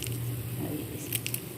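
A few soft crunchy bites and squishes up close into crispy fried sweet gulgule dumplings, brief and quiet, with faint background hiss.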